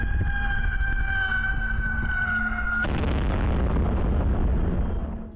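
A high, eerie whistling tone caught on home security footage in a residential neighborhood breaks off abruptly into a loud, sustained explosive roar that rumbles on for a couple of seconds before fading slightly.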